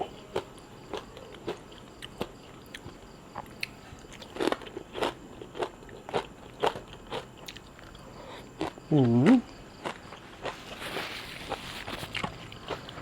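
Someone eats pounded beans with fried dried fish, producing repeated sharp crunchy bites and chewing crackles close to the microphone, spaced irregularly, with a short vocal sound and some background clatter.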